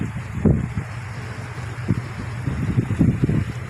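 Strong wind buffets a boat in rough weather with big waves, a steady roaring rush broken by irregular thuds and splashes of water against the hull, close and loud.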